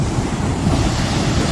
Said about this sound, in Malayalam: കടലൊക്കെ അടിച്ച് പറിക്കുന്നുണ്ട്.